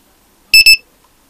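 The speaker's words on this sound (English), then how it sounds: "We got a beep." A solar power inverter in a DIY off-grid system gives two short, sharp, high-pitched beeps in quick succession as solar power is switched off, then silence.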